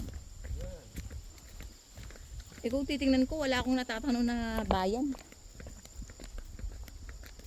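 A horse's hooves clip-clop on a rural road, a light steady clopping beneath people talking nearby.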